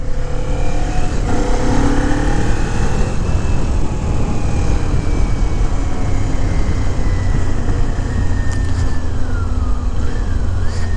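A small-cc motorcycle riding on the road, with a loud, continuous roar of engine and wind noise throughout and faint shifting engine tones rising and falling.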